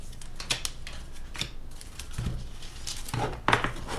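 Intermittent crisp riffling and snapping of playing cards being shuffled, several short bursts spaced apart with quiet gaps between.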